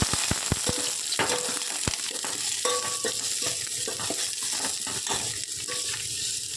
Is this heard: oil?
yes